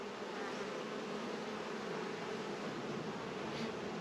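Honeybees buzzing around an open beehive during a hygienic-behaviour test of the colonies, a dense, steady, close drone of many insects that continues unbroken throughout.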